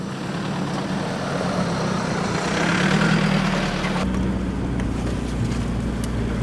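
A converted 4x4 rolls along a dirt track on a hillside in Congo, its engine a steady low drone with a brief rise in effort midway before easing back, constant and fairly close throughout.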